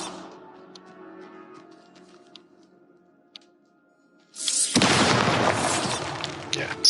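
A Bombarda blasting spell explodes in the video game Hogwarts Legacy, a sudden loud boom with crumbling, crackling debris that follows a quiet stretch of faint ambience and lasts to the end.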